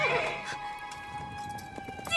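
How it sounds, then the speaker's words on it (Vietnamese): A horse gallops away down a mountain road, its hooves clip-clopping in a quick rhythm close by, under a dramatic musical score. "mau cưỡi ngựa chạy đi, mau xuống núi"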